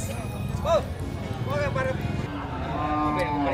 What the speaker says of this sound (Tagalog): Uy, ang ganda ng baka ni tatay, oh.